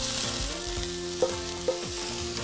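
Leeks sautéing in olive oil in a sauté pan give a steady, close sizzle and crackle, with a couple of sharp clinks of a utensil against the pan partway through; nobody speaks.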